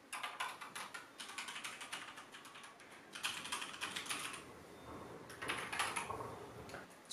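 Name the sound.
typing on Corsair K65 RGB and K100 mechanical keyboards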